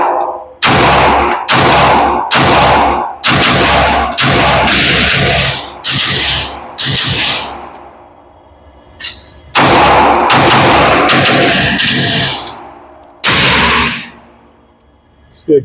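A series of loud, sharp pistol shots from an Alpha Foxtrot Romulus fitted with a MAC9 DS comp, fired in quick bursts of several rounds each with short pauses, then a final pair of shots near the end.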